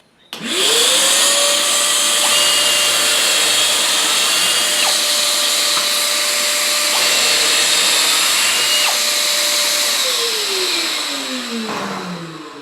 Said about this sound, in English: I'm going to go ahead and turn on the shop vac too